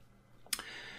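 A single quiet mouse click on an apply button in Windows Server, one short sharp tick against a faint background hum.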